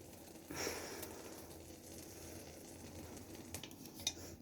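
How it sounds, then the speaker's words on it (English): Quiet, steady sizzling from a pan, a soft continuous hiss with a few faint clicks and taps, no voices. "you can hear it sizzling"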